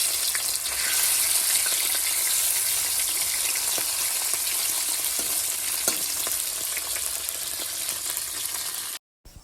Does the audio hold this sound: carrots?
yes